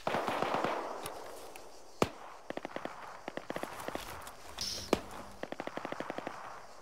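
Gunshots crack in quick irregular bursts, some single sharp reports and some rapid strings, sounding distant and fairly faint against a quiet outdoor background.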